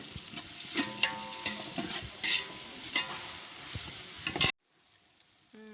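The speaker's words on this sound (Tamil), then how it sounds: "உப்பு போட்டால் தான் வெங்காயம் சீக்கிரம் வதங்கும்" Onions sautéing with salt in a pan for biryani, a close sizzle punctuated by repeated spatula scrapes and knocks, cutting off abruptly into near silence near the end.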